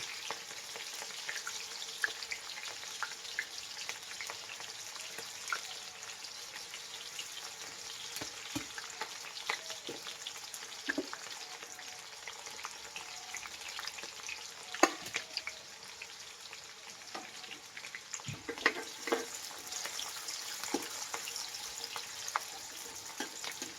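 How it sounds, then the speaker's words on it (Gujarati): Chopped onions fry in a pan for aloo matar sabzi, giving a soft, steady sizzle with scattered crackles and pops throughout and no one speaking. "કાંદા મતલબ ડુંગળી નાખશું લાલ થાય તો કરી લઈશું"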